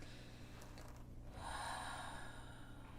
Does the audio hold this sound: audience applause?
no